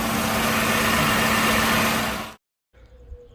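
A Dodge Journey 3.6 V6 engine idles just after an oil change, a loud, steady close-up rumble that cuts off abruptly into near-silence, followed by faint low background noise.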